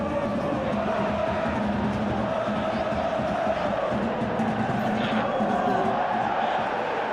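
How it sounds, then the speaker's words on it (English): A large football stadium crowd in a video game swells in a steady, loud roar of urging and shouting, continuous throughout with no clear commentary over it. "Crowd calling for him to shoot."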